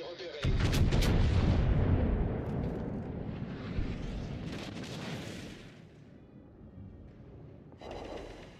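Heavy naval artillery firing in World of Warships Legends, with a loud booming salvo followed by rumbling echoes and a second blast, distant crackling bursts trailing off.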